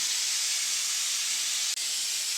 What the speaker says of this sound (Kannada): ಇವಾಗ 2ನೇ ವಿಷಲ್ ಹೊಡೀತು.